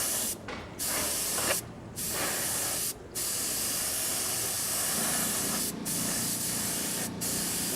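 A spray gun sprays filler primer paint in a steady, close hiss, broken by several short pauses as the trigger is released and pulled again.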